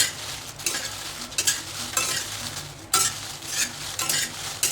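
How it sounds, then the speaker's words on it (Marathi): Dried red chillies roasting in oil in a pan, stirred with a spatula: steady sizzle broken by repeated scraping strokes at an irregular rhythm, close and fairly loud, with no voices. "असं सारखं खाली आपलं स्पॅच्यूला घालून हलवत राहायचं, म्हणजे काय होतं, सर्व बाजूंनी छान भाजतं."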